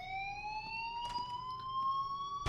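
A fire alarm goes off in the Life Is Strange video game, a steady electronic tone slowly rising in pitch with a faint clatter midway, moderately loud throughout.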